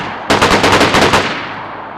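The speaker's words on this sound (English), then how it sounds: "The M4A1 sounds very similar to the LAR, otherwise known as the FN FAL, but the M4 has a slightly higher pitch, as can be heard during full auto fire." An M4A1 assault rifle in the video game DayZ fires a short full-auto burst of about eight rapid, loud, close cracks that end in a fading echo.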